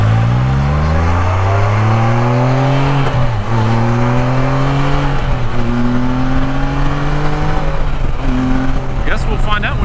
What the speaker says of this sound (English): Is that some type of Ducati?